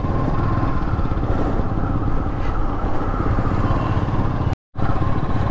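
Royal Enfield Bullet motorcycles rolling together on a Sunday morning group ride to Ambaji, a steady loud engine rumble and wind roar close by, with a brief dropout near the end.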